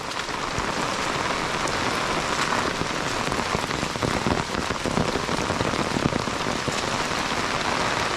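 Heavy rain pours steadily onto the ground on a homestead, a dense, even hiss of drops that stays loud and close throughout without any talk.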